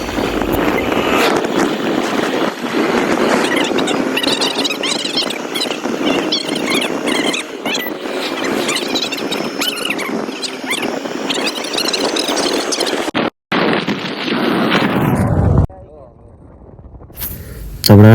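Loud continuous wind roar and engine drone from riding pillion on a motorbike along a road, buffeting steadily for most of the stretch, then abruptly cutting out and dropping to a quieter hum near the end.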